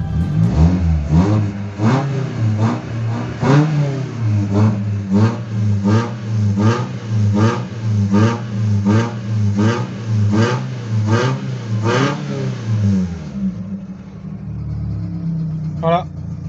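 A Peugeot 206 S16 engine revved repeatedly through its exhaust, with around a dozen rhythmic, evenly spaced rises and falls in pitch over a deep idle rumble, loud and close, then settling back to idle.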